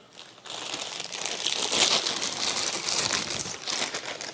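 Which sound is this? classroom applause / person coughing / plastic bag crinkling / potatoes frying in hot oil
plastic bag crinkling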